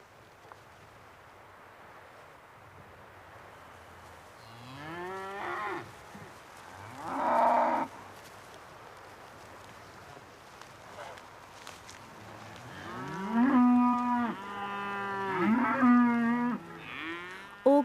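Highland cattle mooing on an open hillside, several long low lowing calls, one brief call early and a louder overlapping run of moos later, over faint outdoor ambience and some footsteps.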